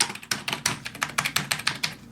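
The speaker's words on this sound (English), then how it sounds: "Oh, do I hear you clicking on your computer?" Rapid typing and clicking on a computer keyboard, a close, steady run of crisp key taps in uneven rhythm, heard alone without talk.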